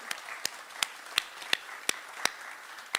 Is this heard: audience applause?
yes